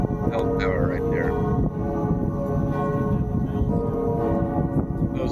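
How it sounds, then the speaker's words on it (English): Bells in the tower of Helsinki Cathedral on Senate Square ringing, rich sustained tones overlapping steadily with outdoor background noise and a brief distant voice. "Let's listen to the bell tower right there."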